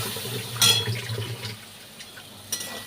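A small amount of water is poured into a pan of pointed gourd curry, giving a short splashing pour early on that fades into quiet bubbling and faint clatter.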